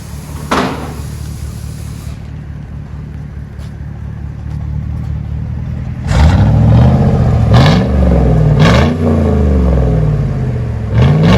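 A 2001 Chevy Tahoe 5.3L V8 with straight-pipe exhaust idles with a deep, loud rumble, then revs several times in rising and falling surges, close by.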